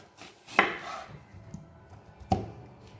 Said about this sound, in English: Cut your onion in half.